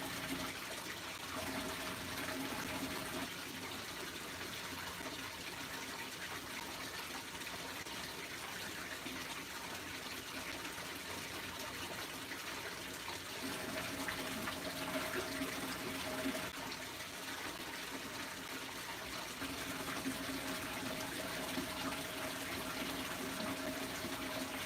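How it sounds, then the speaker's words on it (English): Aquarium tank water pumped out through a hose into a sink, a steady continuous rush and trickle of flowing water with no pauses, moderately loud and close, no voices. "Even though the pump is turned off, it is still pumping, so it is still taking water out as we speak"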